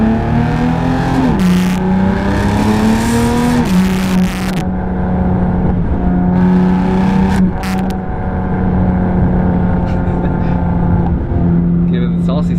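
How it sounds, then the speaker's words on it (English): A BMW running a factory CS tune, ARM catless resonated downpipes, an Active Autowerke equal-length non-resonated mid-pipe and the factory competition muffler drones steadily from inside the cabin while cruising, with someone talking over the exhaust tone. "the setup is ARM Catless resonated downpipes, active Autowerke equal length non-resonated mid-pipe, competition muffler from the factory"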